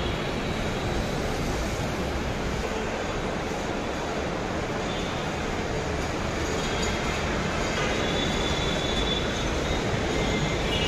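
A metro rail train runs at Mirpur 11 station in a steady, broadband rumble and rush of wheels on track that stays loud throughout, with faint squealing mixed in and no talk.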